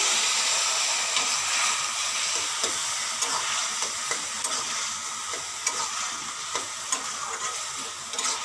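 Yardlong beans tossed into a pan of fried onion, sizzling steadily while a spoon stirs them with occasional sharp scraping clicks, close and continuous with no talking.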